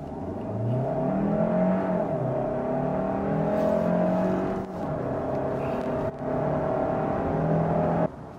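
A Kia Sorento 1.6 hybrid accelerating hard to 100 km/h, its engine note climbing steadily with brief dips at gear changes, heard from inside the car, continuous and fairly loud.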